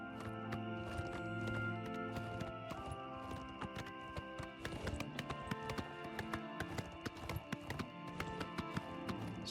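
Horse hooves walking on a path in the video game Oblivion Remastered, a steady clip-clop of repeated hoof taps over background game music and ambience.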